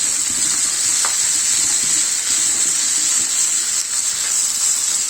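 A Rohu fish head fries crisp in a pan of hot oil, giving a continuous, close sizzle with occasional crackles and faint stirring clinks.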